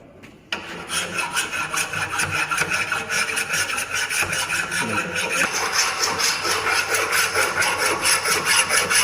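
Rusty steel being polished to strip the rust before arc welding a tee joint in a fabrication workshop, a steady, loud abrasive rasping grind running continuously from just after the start.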